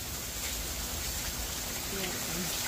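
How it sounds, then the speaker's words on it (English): Rain falls on a farm as a steady, dense hiss that fills the whole stretch at an even level, with faint low sounds briefly showing through near the end. "Some rain."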